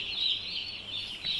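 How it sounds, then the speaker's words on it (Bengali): Young broiler chickens in a brooding area being shooed and scattered, giving off a dense, continuous chorus of high chirping and peeping that rises and falls in waves, close and moderately loud. "দেখেন আমি কীভাবে মুরগিগুলোকে একদম ছড়াই দিচ্ছি"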